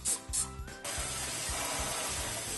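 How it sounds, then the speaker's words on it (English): A multi-surface cleaner sprayed onto an air conditioning filter, with two short hissing bursts at the start followed by a steady low hiss and some faint clatter. "Quick spray with some multi-surface cleaner I found in the cupboard."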